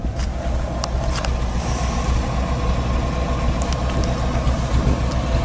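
A 1975 Pontiac Firebird Formula with factory four-speed idles steadily through dual exhaust exiting straight out the back, a close, continuous low rumble with no talk.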